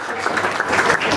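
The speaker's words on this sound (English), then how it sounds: "let's give them all a big round of applause." A brief burst of dense applause from a room of people honoring scholarship recipients at a county fair livestock auction, steady and fairly loud.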